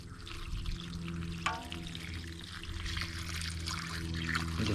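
Water is poured to soak the soil around a transplanted tree in a yard. It makes a continuous splashing, trickling wash at close range, steady for the whole stretch with no talk.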